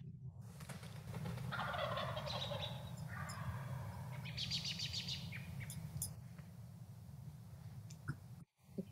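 Several turkeys gobble repeatedly in bursts close by, with a constant low rumble underneath, then a brief thump near the end.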